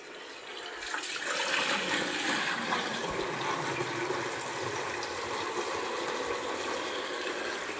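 Water gushes steadily for washing, a continuous rushing splash that starts abruptly and holds at an even level throughout, close by with no talk.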